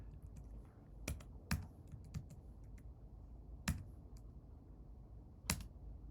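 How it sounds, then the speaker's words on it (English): Sparse, irregular clicks of typing on a computer keyboard, a handful of sharp keystrokes spaced out over a quiet background with no talking. "I'm going to type over those things"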